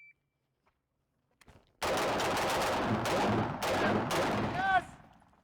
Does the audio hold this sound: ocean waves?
no